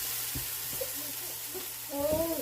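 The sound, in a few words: onions and mushrooms being stirred and sautéed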